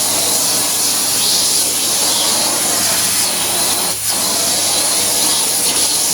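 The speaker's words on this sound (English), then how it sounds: "Let's turn my hoover on." Steady, loud whooshing hiss of a vacuum cleaner motor running continuously up close, with no voices over it.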